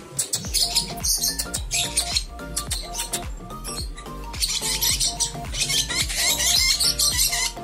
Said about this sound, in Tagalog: Ang cute talaga ng huni nito eh.